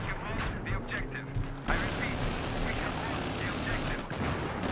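Gunfire in Battlefield 3 multiplayer on the Wake Island map, a dense, continuous crackle of shots and bursts with a sharp blast near the middle, mixed under players chatting over the battle noise.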